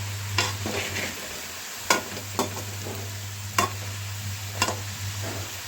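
A spoon stirs a spice mix through dry potatoes in a pan, giving soft scraping strokes and a few sharper clinks over a low, steady sizzle, close by and quiet with no talk.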